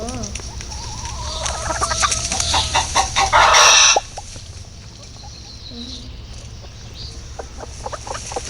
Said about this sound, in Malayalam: ഒരു കോഴി അവിടെ നിൽക്കുന്നുണ്ട്.